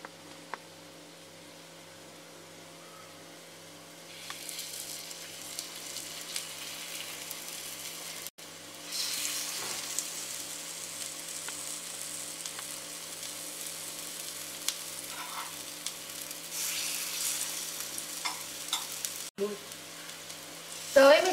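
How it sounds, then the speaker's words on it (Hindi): Potato pakoras frying in a little oil on a flat tawa, giving a steady sizzle that grows louder partway through, with a few soft stirring or scraping touches and no talk. "पकोड़े को मैंने डाल दिया है और पकोड़े को हम अच्छा गोल्डन ब्राउन होने तक इसे सेकेंगे।"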